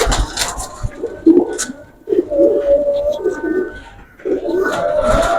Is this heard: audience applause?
no